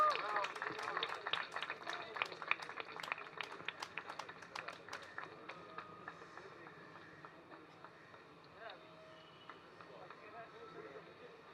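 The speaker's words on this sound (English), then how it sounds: "Loud applause." Loud applause from an audience at an awards presentation, dense clapping for the first five seconds that thins and fades into scattered claps and room noise.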